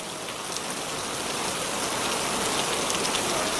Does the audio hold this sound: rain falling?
yes